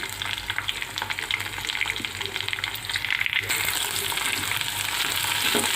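Cluster beans fry in oil with green chillies and onions, giving a steady, close, loud sizzle that continues throughout and swells slightly toward the end, with no voices.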